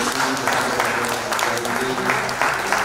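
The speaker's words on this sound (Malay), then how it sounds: "Kita berikan tepukan kepada" Applause from an audience for a standing delegation at a formal agreement-signing event, a steady patter of clapping with a voice over it.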